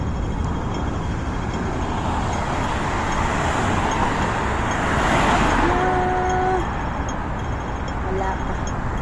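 Steady highway traffic rumbles on, with passing cars and a broad roadway roar plus a brief horn-like tone partway through, while people talk over it.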